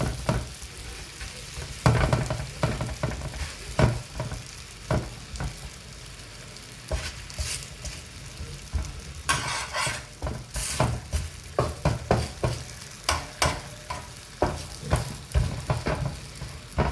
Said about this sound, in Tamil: ரொட்டியும் இப்படியே சுட்டு எடுப்போம்